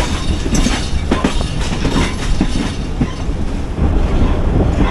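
Passenger train rolling slowly along the rails near a junction, loud and close, with rumbling wheels, irregular clacks over the track joints and brief metallic squeals.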